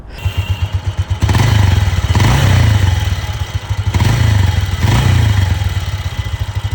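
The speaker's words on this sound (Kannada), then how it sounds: "ಎರಡು ಸಾವಿರದ ಒಂದು ಎರಡರಲ್ಲಿ ಬಂದಂಥ ಪಲ್ಸರ್ ಇದು" A 2001 Bajaj Pulsar 150 with a 143.9 cc single-cylinder, air-cooled four-stroke petrol engine idles with a close, thumping beat and gets revved in several short bursts.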